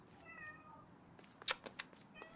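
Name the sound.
cat screaming in The Last Campfire video game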